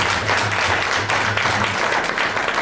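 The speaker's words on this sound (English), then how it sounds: "So let's give them a round of applause." An audience at a film screening and panel event applauds, a dense, sustained burst of clapping from many hands throughout.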